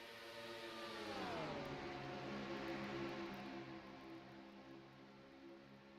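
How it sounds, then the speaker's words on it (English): Racing trucks drone at a distance around a racetrack, one passing truck's roar rising and then dropping in pitch as it goes by, then a steady mechanical hum. "At least you got to listen to the trucks roar around this racetrack"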